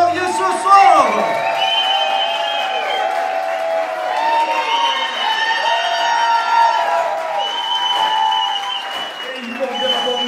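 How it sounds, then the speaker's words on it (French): Wedding guests applaud and cheer for the newlyweds at an evening celebration, with whoops and shouts rising over steady clapping while a voice speaks through it. "D'applaudissements pour nos mariés ce soir."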